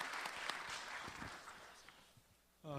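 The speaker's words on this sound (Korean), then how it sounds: "우리 박수를 한번 했습니다" Brief applause from a church policy-forum audience, fading within a few seconds before a voice begins speaking near the end.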